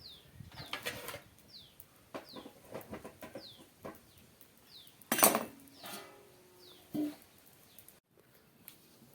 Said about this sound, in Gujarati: તાવડી મૂકી દઈએ